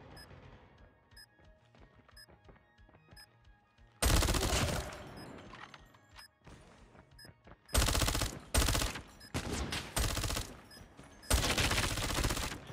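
Bursts of rapid automatic gunfire in a shooter video game, loud and close, coming in several long sustained volleys with short gaps between them after a quieter stretch of softer game sounds.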